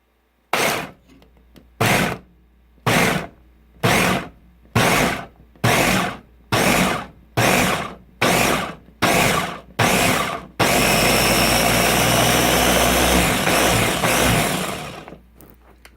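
A countertop blender grinds almonds, first in about ten loud, short pulsed bursts, then in one continuous roaring run of several seconds that cuts off abruptly.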